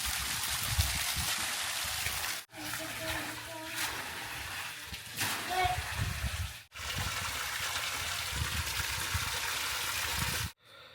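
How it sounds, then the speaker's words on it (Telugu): A motor pump fills a swimming tub, making a steady gush of running water with brief pauses and some faint background sounds mixed in. "ఇప్పుడైతే మేము టబ్లో నీళ్ళు నింపుతున్నాం. ఫ్రెండ్స్, ఇక మోటార్ అయితే ఆన్ చేసినాం."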